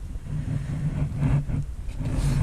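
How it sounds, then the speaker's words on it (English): Royal Enfield Himalayan motorcycle engine fitted with a Precision end can, new downpipe and open DNA air filter, running with a steady low burbling drone and slight rises in revs, close and alone with no talk. "So it's got a precision end can fitted, which is a bit brappy, and a new downpipe"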